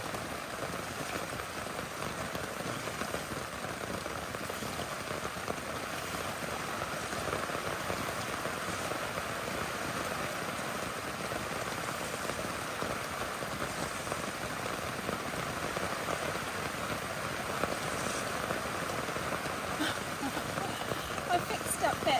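Heavy rain drums steadily on a camping tarp beside a lake, a dense continuous hiss of drops throughout, close and even with no break.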